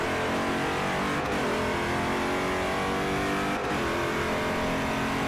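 An LMP2 race car engine at full throttle in Forza Motorsport 4, a loud sustained high-pitched roar with rising revs and two brief dips where it shifts gears, continuous and close throughout.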